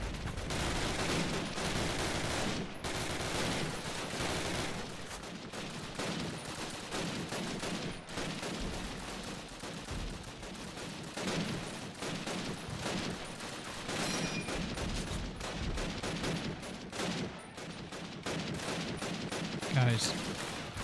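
Dense, continuous gunfire in the World War II shooter game Call of Duty: United Offensive, with rattling bursts and overlapping shots running throughout, loud and busy, with no pause in the battle.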